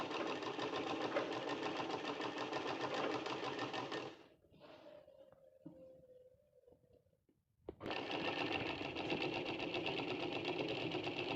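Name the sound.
sewing machine stitching a long frock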